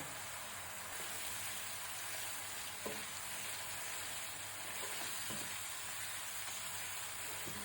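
Spice paste of turmeric, chili, coriander, white pepper and salt fries in a pan for a prawn malai curry, giving a steady, even, quiet sizzle with a few faint stirring clicks and no talking.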